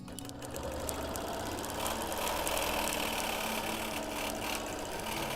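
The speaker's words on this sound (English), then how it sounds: "I forgot to check that bobbin case. I think I'm going to. It's rattling so badly." A Bernina sewing machine quilting a wholecloth baby quilt runs fast and continuously, its needle chattering in a dense steady rhythm under a loose metallic rattle from the bobbin case, close and fairly loud with no talking.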